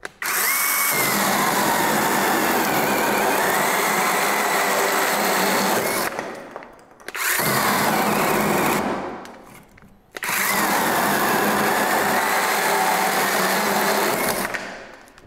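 A cordless battery pruning chainsaw whines loudly as it cuts through a branch in three long, steady bursts, each several seconds long and split by short pauses, close up with no talking.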